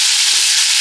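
Onions frying in hot oil in a pot at an outdoor cooking spot, a steady, close, bright sizzling hiss that holds at an even level throughout with no voices over it.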